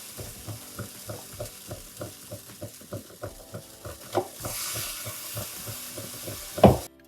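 Pancake batter cooking in a ceramic coated pan, a steady soft sizzle broken by rhythmic stirring or scraping strokes, swelling into a louder hiss near the end.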